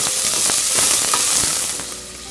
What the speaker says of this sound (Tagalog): Mainit na ating mantika. Pag nagbo-brown na po ang bawang, ilagay na po natin ang ating sibuyas.